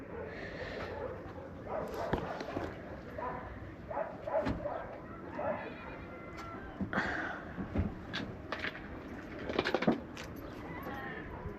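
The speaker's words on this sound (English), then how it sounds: "We can hear a lot of animals in the background, up in the mountain, hillside. Some dogs" Dogs bark intermittently in the distance on a mountain hillside in Morocco, amid a busy outdoor background with birds and faint other noises, scattered irregular barks rather than a steady rhythm.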